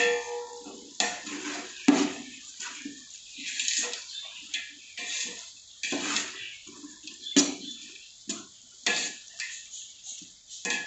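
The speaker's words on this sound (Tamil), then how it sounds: "போட்ட வெங்காயத்தை சும்மா ஒரு கிளறிட்டு இது பொன்னிறமாக வர வரையும் நம்ம வெயிட் பண்ணுவோம்" Sliced onions stirred in a large pot while sautéing for a 2 kg vegetable biryani, with irregular scraping and clinking of the spoon against the metal and soft frying in between, close and fairly quiet.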